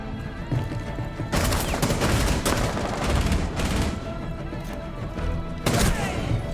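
Rapid bursts of gunfire fill a Rainbow Six Siege match, loud and sustained, with sharp automatic volleys stacking over one another and a few heavier cracks standing out.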